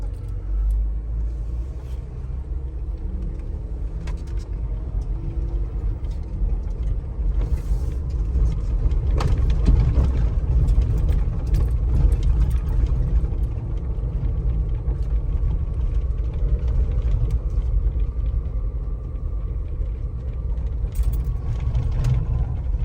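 A Jeep Wrangler JK Unlimited Rubicon with freshly adjusted caster is driven on the road. Its engine and tires give a steady, loud low rumble that swells slightly midway, with faint rattles and no talking.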